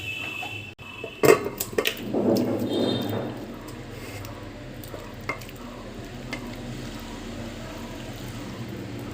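A pot of jackfruit and prawn curry is lifted off the stove: sharp metal clanks and scraping up close, a short burst of sizzling and stirring, then a quieter stretch with faint occasional knocks.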